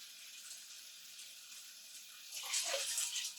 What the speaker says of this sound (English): I'm running it in cold water in the sink.